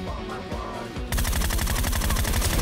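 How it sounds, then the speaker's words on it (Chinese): Gunfire in the battle royale game Game for Peace: a quiet stretch with faint shots, then a loud, rapid burst of automatic fire with evenly spaced cracks, close and sustained. "只能先开枪蒙一下，看能不能打出击中特效。"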